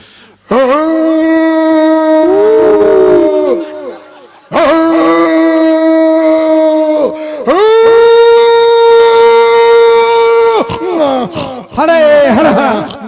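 A folk comedy bharud performer imitates a village dog howling with his voice: three long, loud, drawn-out wailing howls separated by short gaps, followed by a few shorter yelping cries.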